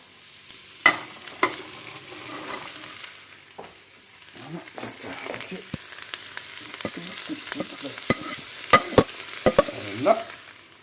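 Onions and mushrooms sizzle in a cooker for boeuf bourguignon, with a soft steady fry broken by sharp clacks and scraping as the pieces are stirred and added.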